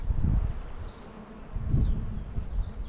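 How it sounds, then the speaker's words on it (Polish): Honey bees buzz steadily around many hives in an apiary, a dense droning hum that swells and fades as insects pass close by. "Ale tu pszczół, no wiadomo, tutaj jest dużo, dużo uli."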